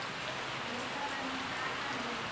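Evening rain falls steadily, a soft, even hiss of drops on surfaces nearby with no break or pause across the short stretch.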